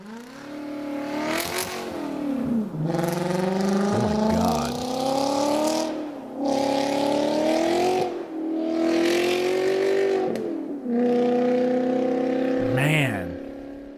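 A Volkswagen Passat W8 engine revs repeatedly in rising, swelling bursts, played back through a speaker, each climb held for a second or two before dropping, with a brief exclamation from a listener near the end.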